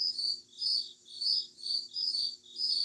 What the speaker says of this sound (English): And some happy crickets.